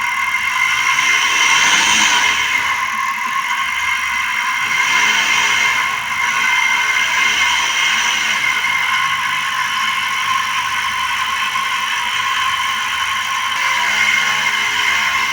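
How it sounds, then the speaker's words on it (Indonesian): A small engine fitted with a homemade mini 1.5-volt CDI ignition built from an old stove lighter igniter revs with a steady high whine and buzzing mechanical rattle, loud and continuous throughout. "Coba gua naikin RPM-nya."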